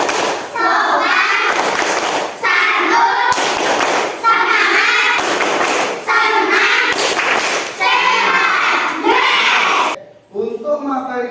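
Schoolchildren in a classroom chant and clap in unison through a rhythmic 5S clapping routine, steady loud patterned claps and group voices repeating in regular phrases, ending abruptly into quieter room sound.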